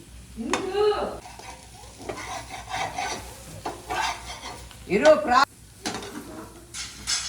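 Boiled panagantaku leaves are stirred into cooked toor dal in a pan, making repeated scraping and mixing strokes in uneven bursts, with someone talking between them.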